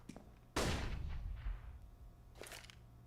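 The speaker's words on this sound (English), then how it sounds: "There's a nice little flashbang for all y'all." A flashbang grenade goes off in Counter-Strike during an IEM Dallas 2023 tournament match, a sharp loud burst followed by a decaying ringing tail, with a fainter second pop shortly after.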